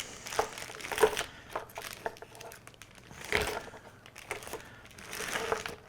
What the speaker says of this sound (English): You put them into a plastic bag.